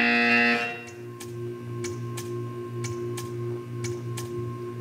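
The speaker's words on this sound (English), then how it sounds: "You will hear a buzzer." Buzzer sounding at an art installation, a brief harsh tonal blare at the start that cuts off into a humming room, where faint evenly spaced ticks follow.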